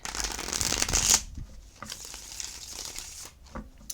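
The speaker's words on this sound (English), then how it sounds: "One more shuffle." A deck of cards is riffle-shuffled in a quick rustling burst, followed by softer handling sounds and light taps.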